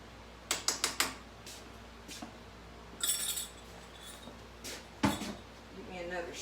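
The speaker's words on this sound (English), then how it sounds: "you just stir them around in here gently" A fork stirs potatoes in a cream sauce of milk and flour, giving a quick run of light metallic clinks against the dish and a few scattered taps and scrapes afterward, set against a soft room background.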